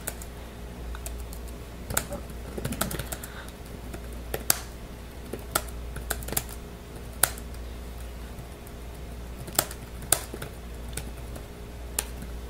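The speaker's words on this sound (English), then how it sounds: "Very quick, very easy to type. As you can see, I just typed that up." Typing on the ASUS Transformer Pad Infinity TF700 dock keyboard, a steady run of light, crisp key clicks with a few louder taps scattered through, close and clear over a quiet low hum, with no talking.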